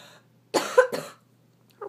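A sick person coughs close up, two or three harsh rasping bursts in quick succession, followed by a faint throaty sound at the end.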